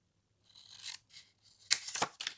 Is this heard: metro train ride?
no